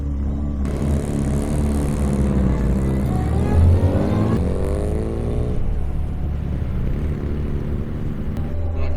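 A 1960 Austin-Healey Mk1 Sprite sports car's small engine starts up and revs as the car pulls away, a steady throaty drone with rising pitch sweeps, close by, with no talking.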